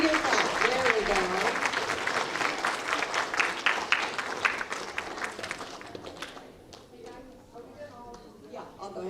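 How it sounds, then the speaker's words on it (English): Audience at a school awards assembly for third to eighth grade claps in a loud sustained round that fades out after about six seconds, with voices talking over it and after it. "Let's give them a bigger clap."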